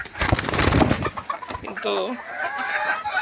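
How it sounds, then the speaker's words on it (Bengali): A rooster kept as a pet clucks nearby in a quick burst, followed by throatier calls. A person talks over part of it. "দেখাই এর মোরগটা"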